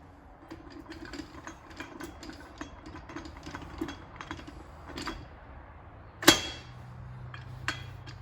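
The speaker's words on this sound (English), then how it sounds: "And then I can just plunk this down on here." A part from a Ford E4OD transmission is set down onto the assembled unit with a single sharp metallic clunk, heard close against a quiet workshop background with faint mechanical hum.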